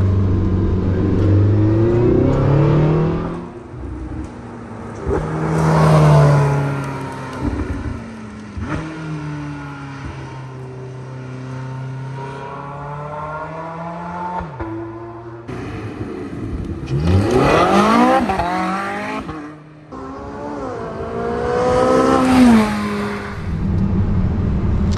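A Porsche 918 Spyder Weissach hypercar, cold-started and warming up, hums and rumbles nearby, then surges through several revving accelerations with gear changes as it drives off.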